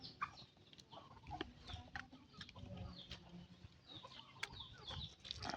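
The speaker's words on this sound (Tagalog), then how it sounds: "Ang dami naming manok, guys." Several chickens cluck and squawk near and far across a farm field, a busy, overlapping flock chatter at moderate volume with no one speaking.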